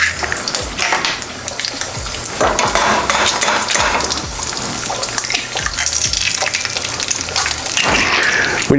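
Eggs fry in oil in a pan with a loud, close, continuous sizzle and spatter, punctuated by a few soft knocks of utensils.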